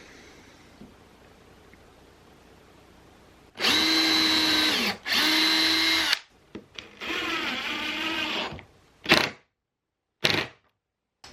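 Power drill driving screws into wood while fixing a floor sweep in a workshop, two long steady whirring runs followed by shorter bursts and a few quick final pulses, close and loud with no talk.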